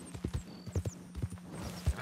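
Horse galloping in Red Dead Redemption 2: rapid, close hoofbeats in an uneven clip-clop rhythm over a low steady hum, with no talk.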